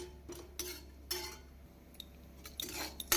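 Chana dal being roasted dry in a pan, a few quiet scraping and clinking strokes of a spoon against the metal, spaced out with near silence between them.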